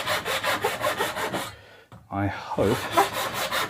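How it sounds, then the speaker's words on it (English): A bandsaw trims excess wood off a guitar neck with a steady, rhythmic rasping cut that pauses briefly while a voice speaks, then resumes at close range. "I have to bandsaw the neck, excess neck wood off"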